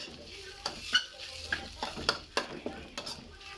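Spring onions stir-fried in a hot pan, with a steady sizzle under repeated scraping and clinking of a utensil against the pan, close and fairly quiet.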